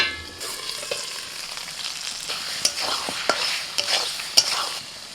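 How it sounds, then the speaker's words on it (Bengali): Chicken frying in a pan with spices while being stirred, a close sizzle with repeated scraping and clinking strokes of a spoon against the pan, no voices. "এবার চিকেনটা কিছুক্ষণ কষাতে থাকবো মশলার সাথে"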